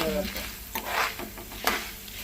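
Bitter gourd sizzles and fries in a pan while a spatula stirs it, with scraping strokes breaking through the steady close hiss across a short stretch.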